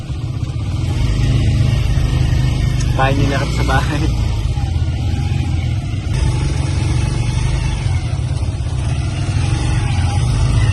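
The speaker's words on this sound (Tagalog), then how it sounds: "Pinagid tayo ng tricycle." Steady mid-pitched putter of a motorized tricycle engine while riding in the Philippines, a constant close drone running throughout with people talking over it.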